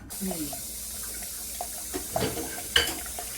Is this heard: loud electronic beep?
no